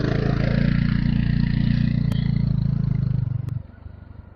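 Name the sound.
scooter engine passing at speed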